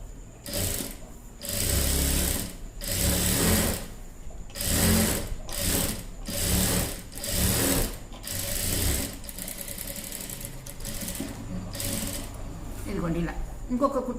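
A sewing machine stitches a blouse in several loud whirring bursts separated by brief pauses, close by, with a person talking in between.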